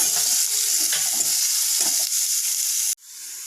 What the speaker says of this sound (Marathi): कट केलेला कांदा आपण हे लालसर होईपर्यंत आपण व्यवस्थित फ्राय करून घेऊयात